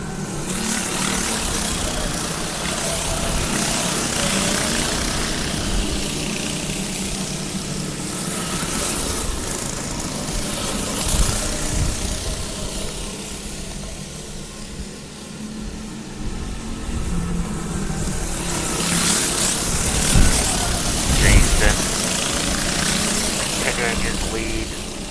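Go-kart engines drone continuously at a 2005 fall series race at Galletta's track, a loud buzzing roar that swells and fades as karts pass, with a commentator talking throughout.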